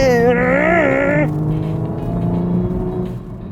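A Toyota Supra sports car on winding roads in the Philippines revs hard with a rising, wavering engine note, then drops to a lower steady drone as it keeps driving, loud and close throughout.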